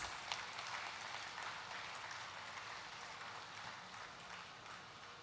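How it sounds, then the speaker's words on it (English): A ceremony crowd at the Gauhati High Court Platinum Jubilee celebration applauds the unveiling of a commemorative postage stamp, a faint, even wash of distant clapping that holds steady throughout with no voices. "A huge round of applause,"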